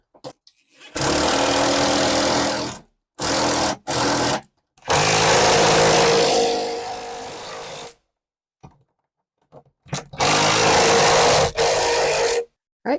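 A power drill drives lag bolts into pre-drilled holes while a porch swing is being assembled, in five separate whirring bursts of varying length, loud and close, with quiet gaps between them.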